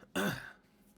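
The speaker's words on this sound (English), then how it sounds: "I gotta properly clear my throat for this" One short, raspy throat clearing, close and brief, fading into quiet.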